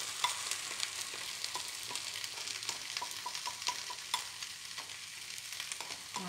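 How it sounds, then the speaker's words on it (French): Two beaten eggs poured into a frying pan over moderate heat give a steady, close hiss of sizzling, with faint scattered crackles and no voices. "Je vais verser mes 2 œufs battus par-dessus"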